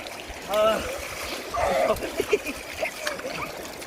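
Water splashes and trickles as someone bathes in a cold, shallow village river, with a couple of louder splashes amid steady gurgling; speech is heard nearby.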